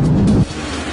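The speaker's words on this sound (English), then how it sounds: "31-year-old Andre Bos hears the approaching rumble of jet engines." Deep roar of jumbo jet engines on a descending airliner, a loud low rumble that holds steady then drops off abruptly partway through.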